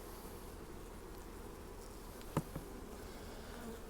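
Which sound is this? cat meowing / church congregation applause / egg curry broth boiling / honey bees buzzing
honey bees buzzing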